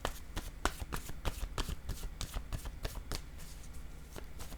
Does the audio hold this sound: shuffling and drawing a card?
yes